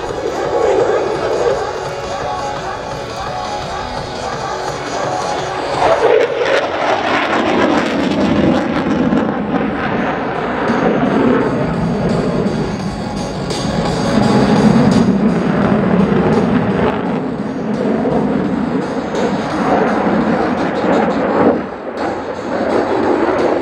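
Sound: USAF F-16 Viper jet flying the Falcon Turn at air show

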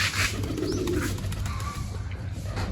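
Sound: pigeons cooing while being fed grain

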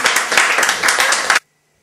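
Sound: applause for the film extras on set

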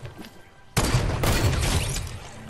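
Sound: heavy sniper gunfire in a video game

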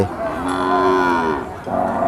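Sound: cow mooing at a cattle market

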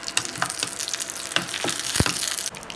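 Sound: whole spices and bay leaves frying in ghee

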